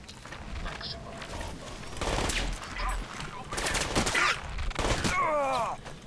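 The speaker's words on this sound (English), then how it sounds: "Well, someone's shooting at me." Gunfire in the video game Crysis, with bursts of shots crackling over a dense, noisy combat soundscape while a voice groans and exclaims, fairly loud and continuous throughout.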